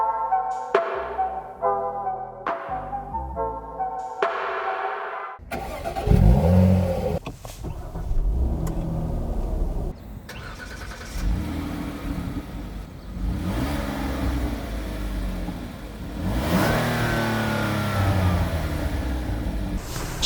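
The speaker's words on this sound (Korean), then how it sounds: "주행을 위해 시동을 걸겠습니다." A 2012 Hyundai Grandeur with a 3.0-litre gasoline engine cranks and fires up after a few short chimes, then runs with rising and settling engine tones close by, no talking.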